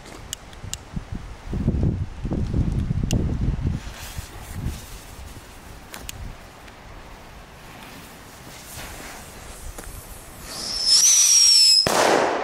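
Several sharp bangs and crackling bursts of consumer fireworks set off outdoors in Belgium, spread out over outdoor background noise, ending with a high whistling rise and a loud burst.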